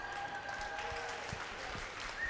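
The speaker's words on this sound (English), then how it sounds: "Appreciation show from the crowd there." A crowd at an English Open senior doubles pickleball match applauds in a soft, steady patter of claps heard from a distance throughout.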